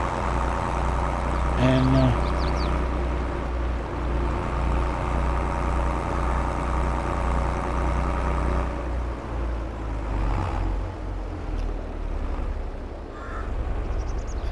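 A tractor engine runs steadily while ridging a field, a continuous low throbbing drone with a brief tonal whine near the start and a slight change in pitch later, a voice speaking faintly over it.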